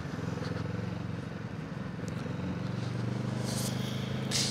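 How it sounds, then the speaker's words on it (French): A Kawasaki Vulcan S motorcycle engine idles with a steady, low burble, running continuously and fairly close throughout. "Je sais pas si vous entendez un peu le glouglou là qu'elle fait."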